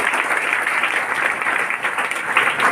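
Sustained audience applause at a motivational speech event, a steady wash of clapping from a large crowd that holds its level throughout.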